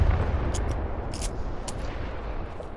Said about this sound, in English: I threw the airstrike right at me